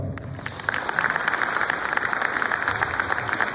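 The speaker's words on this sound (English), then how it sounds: "One more hand for Rand Bahar Ava as well." Sustained applause from a crowd, dense steady clapping that carries on throughout at moderate volume.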